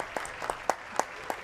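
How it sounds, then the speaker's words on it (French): A small studio audience on a television talk-show set claps for four guests; only a handful of sharp, separate claps ring out in a sparse, even rhythm. "applaudissements pour mes 4 invités."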